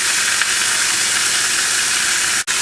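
Beef brisket sears meat side down in a hot pot, giving a loud, continuous close sizzle and hiss that cuts out for a split second near the end.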